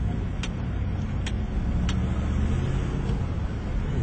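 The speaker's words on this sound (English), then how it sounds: "look at all this traffic" Steady road traffic noise of passing cars, a continuous low rumble with a few faint sharp ticks, heard from close by as if inside or beside a vehicle, with no talking.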